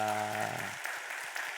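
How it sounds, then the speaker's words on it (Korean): A church congregation breaks into applause during a Sunday service, a dense wash of clapping with a held tone fading under it in the opening moments. "우리 한 박수 한번 하도록 하겠습니다."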